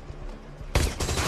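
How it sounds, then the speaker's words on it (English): A sudden loud burst of gunfire erupts after a quieter stretch, several rapid shots crackling together in a harsh volley. "Is that gunfire?"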